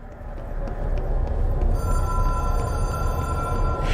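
Telephone ringing in the video game Control, a hotline phone to the Black Pyramid, with a steady high ring rising after a short lead-in over a dense, continuous game background.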